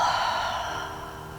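A long, soft, whispery exhale during a guided yoga relaxation, a breathy airy rush that starts fuller and gradually fades over about a second and a half, close and alone with no talk.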